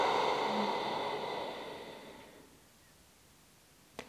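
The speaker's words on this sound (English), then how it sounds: "and then exhale through the nose." A long, soft breath streams out through the nose with slight constriction at the back of the throat, hissy and airy, fading gradually over a couple of seconds into quiet, followed by a tiny click.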